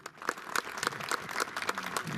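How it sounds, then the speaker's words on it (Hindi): Children at a district orientation programme clap for their teachers, a brief, fairly faint patter of separate claps that thickens slightly toward the end. "इसलिए मैं बच्चों से निवेदन करूंगा कि सब शिक्षक के लिए जो है तालियां बजाएं।"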